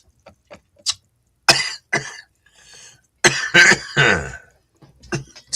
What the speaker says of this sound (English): I'm coughing from smoking weed